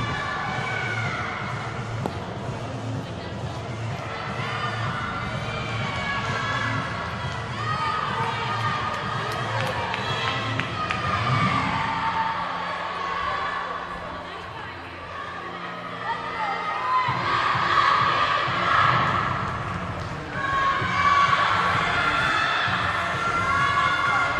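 Crowd noise at a 2022 college gymnastics meet during a floor routine, a broad murmur and cheering from the stands, swelling louder toward the end, under steady commentary from two people talking.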